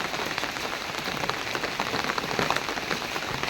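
Steady rain pours down on a rural home courtyard during a storm, a dense, continuous patter of drops hitting surfaces, fairly loud and close, with no voices.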